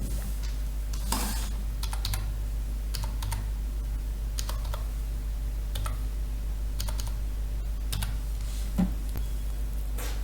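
An enrollment number is typed on a computer keyboard as short bursts of close key clicks with pauses between them, over a steady low electrical hum.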